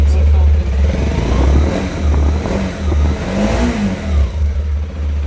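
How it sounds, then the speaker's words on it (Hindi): A TVS RTX 300 motorcycle's exhaust is revved up close while parked, giving loud, throbbing rises and falls in engine pitch in a rhythmic sequence of blips. "एग्जॉस्ट का साउंड देख लो।"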